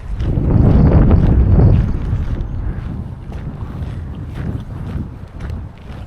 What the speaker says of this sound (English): It's windy as heck.